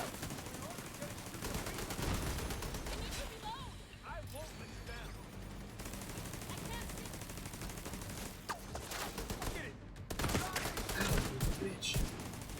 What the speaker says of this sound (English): These dudes are shooting me from the back.